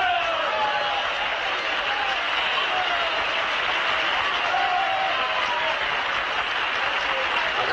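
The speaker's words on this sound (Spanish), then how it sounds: "Agradezco estos aplausos tan desnutridos, a la par que merecidos" A crowd claps steadily in a continuous, even wash of applause for a speech, sounding somewhat thin and uniform, with a faint murmur of voices beneath.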